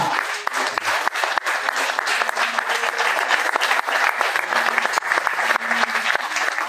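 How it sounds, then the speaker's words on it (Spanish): A church congregation claps loudly for the Lord at a service, with brisk, continuous applause and a few sharper individual claps standing out, plus faint voices underneath. "Den un aplauso fuerte al Señor."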